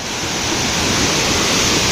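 Chintapalle waterfall roars with rushing water in a loud, steady, broadband wash that fills the whole stretch without pause or talk.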